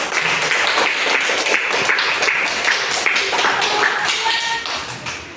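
Children clapping together in a classroom for group one, a loud, dense burst of quick claps and taps sustained for several seconds before easing off slightly at the end.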